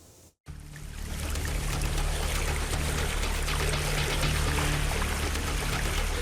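Floodwater from the overflowing Citarum and Cibeet rivers in Karawang, West Java rushes in a steady, loud, broadband roar after a brief quieter moment at the start.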